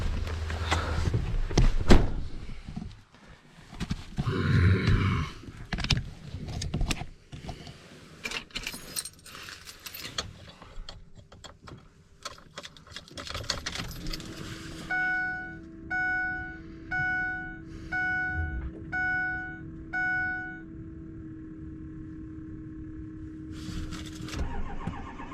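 A truck engine, hooked to a starter, is handled with keys and clatter, then a steady pulsing crank with regular beeps before catching and settling into a low running idle, close and alone.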